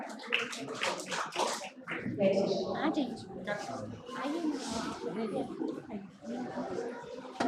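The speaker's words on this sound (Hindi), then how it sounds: "प्लीज एक जोरदार ताली हो जाए" Audience applause at an authors' meet-and-greet on stage at a literature festival in Singrauli: sustained, broad clapping from a crowd, mixed with people talking.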